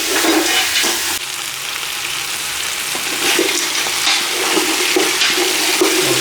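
Lamb pieces searing in a pan for a Cantonese lamb stew, a steady loud broadband sizzle and hiss with occasional stirring scrapes, close and continuous with no talking.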